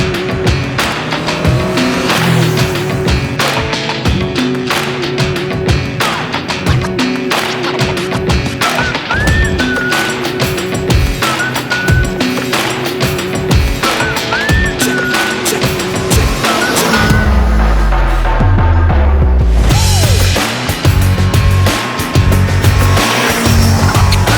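A 2003 Kawasaki Z1000 motorcycle engine revs and roars continuously through its stock exhaust, pitch climbing and dropping through gear changes, with a deep throaty note close up.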